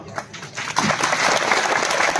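Audience at a Hindi poetry recital breaking into applause, a few scattered claps quickly swelling into full, sustained clapping from a large crowd.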